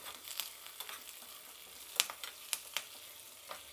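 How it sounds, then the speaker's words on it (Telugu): Red onion tempering frying in oil for Andhra-style tomato dal, a steady soft sizzle with scattered sharp crackles and pops, close and moderately quiet with no talk. "ఇప్పుడు బాగా వేయించుకుందాం పోపు"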